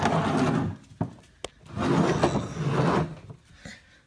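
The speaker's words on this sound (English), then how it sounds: "I went ahead and put the rotors back in the same way I took them out." Supercharger rotors from an LSA blower slide back into the metal blower body, giving close scraping, rubbing pushes with a couple of sharp knocks between them.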